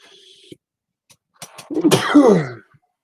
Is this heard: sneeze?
yes